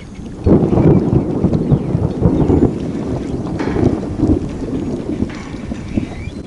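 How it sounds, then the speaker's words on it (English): Thunder from a storm rolling around an outdoor bass-fishing spot, deep rumbles with wind buffeting the microphone, loud and continuous with surges over several seconds and no voices. "Thunder's all around, but I ain't seen no lightning"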